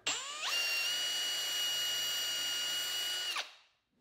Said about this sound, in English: I'll drill a 3/32 pilot hole into the plywood side